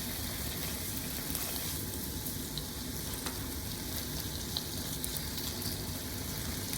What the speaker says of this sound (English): Spread the pork over the pan to evenly brown the meat